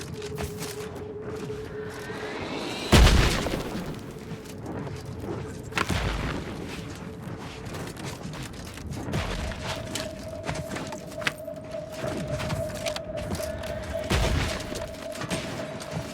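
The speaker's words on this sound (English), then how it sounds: "Mortar fire! Move!" Mortar rounds explode during combat in The Outer Worlds 2: a few heavy booms, the loudest near the start, then more thuds and scattered impacts over constant background din and a steady tone.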